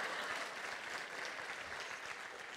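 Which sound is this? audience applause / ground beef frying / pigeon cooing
audience applause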